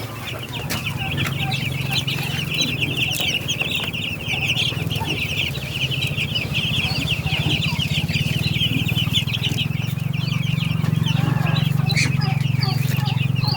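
Broiler chickens and chicks cluck and cheep constantly at close range in a busy coop, with a steady low hum underneath and occasional faint voices.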